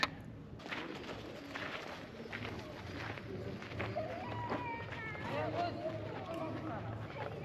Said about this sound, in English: This apparently was a pigeon house. They raised pigeons there.